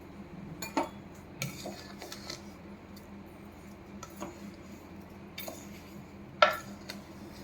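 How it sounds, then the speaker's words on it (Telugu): A ladle knocks and scrapes against a pan while milk is poured in and mixed for a laddu sweet, giving a few scattered clinks, one sharper near the end, over a quiet kitchen background. "మళ్ళీ అంతా ఒకసారి కింద నుంచి గరిటతో మిక్స్ చేసేసుకోండి పాలు పోసేటప్పుడు చూసి మిక్స్ చేయాలి"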